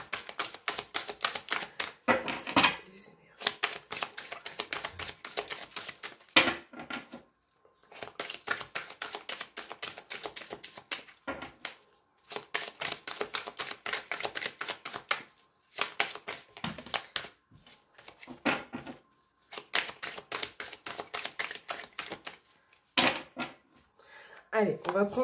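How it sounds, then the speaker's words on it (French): Tarot cards are shuffled by hand in repeated bursts of crisp, close riffling and slapping, broken by short silent gaps, with soft talking faintly in between. "on va mélanger un petit peu"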